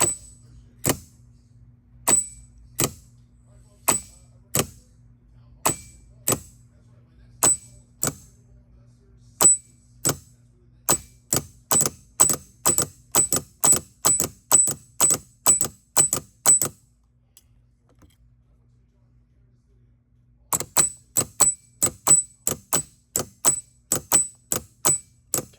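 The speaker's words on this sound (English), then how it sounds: "When I first did it, it did spin, but now it's just stuck on the click." An old Titan starter motor on a bench test clicks sharply and repeatedly, slowly at first and then faster. The clicking pauses for a few seconds and resumes as a rapid, even series of clicks.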